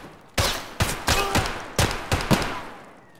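Gunfire in Escape from Tarkov, six or seven sharp, loud shots in quick irregular succession, close and punchy, with a faint room tail between bursts.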